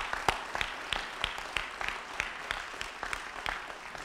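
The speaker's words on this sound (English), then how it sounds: "start a round of applause for those of you that got us going" An audience at a St. Louis civic announcement applauds with a thin, evenly spaced patter of claps that sounds like a modest, fairly distant crowd clapping steadily.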